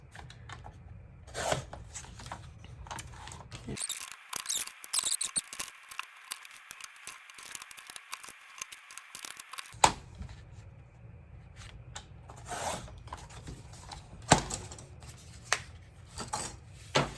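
Paper being trimmed for a junk journal signature gives quiet, close scraping and cutting sounds, a steady hiss of blade on paper in the middle stretch with scattered soft rustles and taps before and after.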